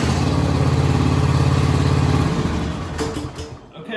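Lawn tractor engine, full battery charge, turning over in a steady rhythmic crank for about two seconds, then catching and running unevenly before settling, close and loud.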